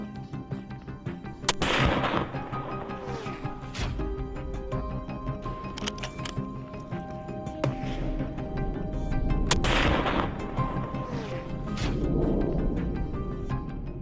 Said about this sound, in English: Gunshots echoed and a few more boars went down.